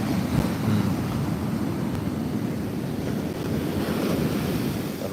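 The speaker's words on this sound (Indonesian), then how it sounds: "Dan ombaknya cukup luar biasa sekali." Heavy surf pounds a beach at Muaro Bayang, Pesisir Selatan, in stormy weather, with a steady, loud roar of breaking waves and wind buffeting the microphone throughout.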